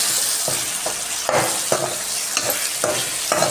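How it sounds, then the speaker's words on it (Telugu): A spoon stirs masala powder and peanut powder into a sizzling curry in a pan, giving regular scraping strokes roughly every half second over a constant frying hiss, close up with no talking. "అలాగే కొద్దిగా వేరుశనగ పొడి వేసి బాగా కలుపుకోవాలి."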